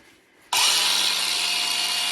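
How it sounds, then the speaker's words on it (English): Grinder-polisher on tile and stone starts abruptly after a quiet moment and runs at low speed with a loud, steady whirring hiss and faint whine that holds evenly to the end. "I'll show you low speed on the grinder."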